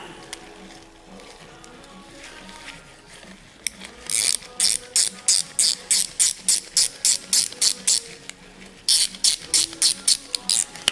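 Ratchet wrench tightening a fitting with a copper washer on a BMW 760Li V12 trunk strut, a quiet start followed by two bursts of rapid, evenly spaced clicks close by.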